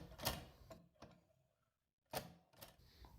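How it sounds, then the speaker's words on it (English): Antique typewriters click and clatter as the typing ball moves, with a few separate sharp mechanical strikes broken by a short silent pause. "the thing I like the most is the movement of the typing ball while you choose the symbol you want to type."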